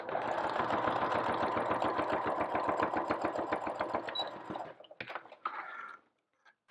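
A sewing machine stitches along the edge of a gift card holder flap in a fast, rhythmic whir that stops abruptly, followed by a few light handling clicks.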